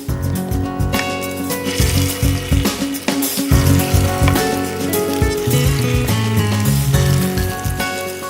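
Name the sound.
fish kebabs frying in hot ghee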